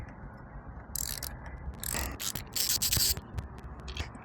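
A 10 mm ratchet loosens handlebar bolts on a KTM 390 Adventure motorcycle, giving quick bursts of close, sharp clicking that come in several short runs with brief pauses between them.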